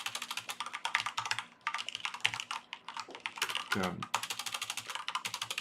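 Rapid, steady clicking comes from a computer keyboard as C# code is typed. The key taps run almost without a break and sound close, and a person speaks briefly partway through.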